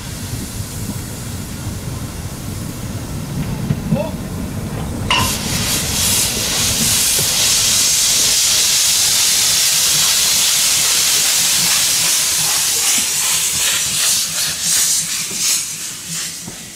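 A narrow-gauge steam train, the Öchsle line near Warthausen, approaches with a sudden loud hiss of steam, then rhythmic chuffing and rumbling as it passes close by.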